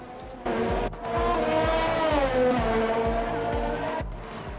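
Race cars roar past in the F1 2020 video game at the Sakhir circuit in Bahrain: high-pitched engine whines sweep and rise in pitch during an overtake, with a loud, steady close engine drone throughout.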